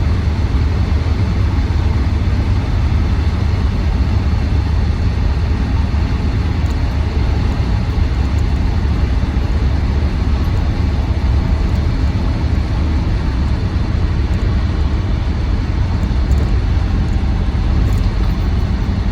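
A Land Rover Defender 90 Td5 County hardtop drives along with its diesel engine running, a loud, constant low drone and road roar filling the whole stretch without pause or speech.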